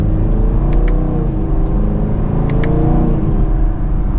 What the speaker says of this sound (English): let's go ahead and take a final drive in the Chevrolet Camaro. And in sport mode, 2nd gear